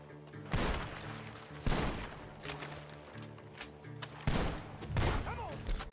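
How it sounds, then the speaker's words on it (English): Gunfire echoes from a barn in the video game Red Dead Redemption 2, several sharp loud shots at irregular intervals with ambient rumble between them. "Gunshots are coming from that barn!"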